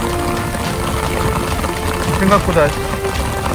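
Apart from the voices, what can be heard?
heavy rain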